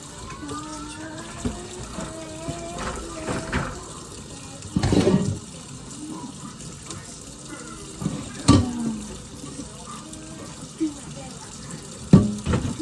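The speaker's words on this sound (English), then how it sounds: "So I need to clean my sink up real quick." Tap water running into a kitchen sink during cleaning, a steady wash of flow broken by a few louder splashes and clatters near the end, heard close up with faint voices in the background.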